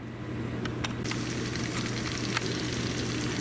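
Meat fries in a pan with a steady, dense sizzle and crackle throughout, a few brief clinks of utensils early on, a low constant hum beneath, and no talking.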